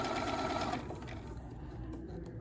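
A sewing machine stitches through a fabric postcard, a steady close whirring run that eases slightly partway through, with no talking.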